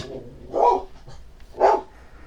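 A pet dog barks twice, loud and fairly close, at a motorcycle passing a house, with a quiet pause between the two barks.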